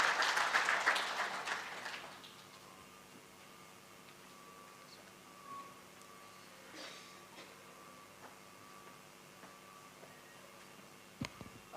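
Audience applause in a hall at an international business management and innovation conference, a short burst of clapping that quickly dies away into quiet room tone with a few faint shuffles and a small knock near the end.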